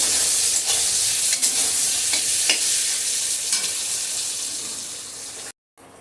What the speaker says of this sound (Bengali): পটল আমার ভাজা হয়ে এসছে, নামিয়ে নিচ্ছি।